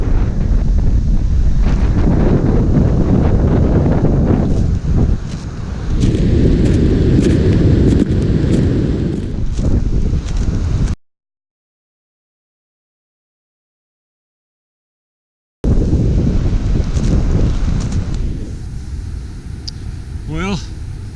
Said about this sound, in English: the wind whipping off that lake is extremely cold